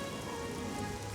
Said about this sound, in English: I wish the rain effects weren't so obviously there.